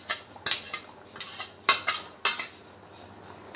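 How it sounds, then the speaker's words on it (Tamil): A spoon scrapes and clinks against a pot as a ground coconut and fennel paste is stirred into a Tamil-style chickpea curry: four or five sharp, close strokes in an irregular rhythm with quiet gaps between them. No one speaks. "அந்த பேஸ்ட்டை போட்டாச்சு. இப்போ நல்லா கிண்டி விட்டுக்கோங்க."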